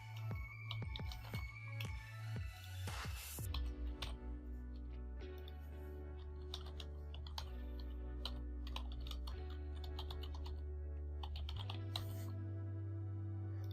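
Quiet, irregular clicking of a computer keyboard as user details are typed into a registration form, in short bursts with brief pauses and no talk.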